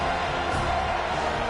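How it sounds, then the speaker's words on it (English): A home crowd cheering at a Big Ten versus ACC college football game as the defense faces third down, heard as a dense, steady roar that fills the whole moment. "Here comes this home crowd as the defense tries to get off the field on 3rd down."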